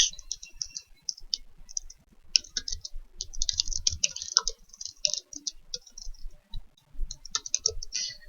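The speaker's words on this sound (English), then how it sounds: "So I'll type that out." Rapid, uneven bursts of clicking come from fingers typing on a computer keyboard, close and clear, with short pauses between runs of keystrokes.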